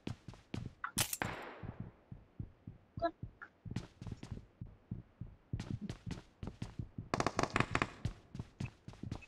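A shooter video game fires gunshots as rapid sharp cracks, some spaced and some in dense bursts, loud and close throughout with a few echoing blasts.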